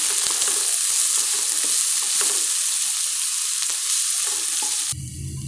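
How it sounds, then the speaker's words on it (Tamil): Onions sauté in a pan for tomato rice, a loud, even sizzling hiss with small crackles throughout that changes abruptly just before the end. "வெங்காயத்தை நல்லா வதக்கிக்கோங்க."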